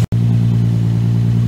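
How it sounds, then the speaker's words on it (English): Infiniti G35 coupe with a muffler-delete exhaust and a rod knock, idling in a steady deep growl, loud and close, broken by a very short gap near the start. "So it does have a muffler delete, and it sounds pretty nice. It's a pretty deep growl"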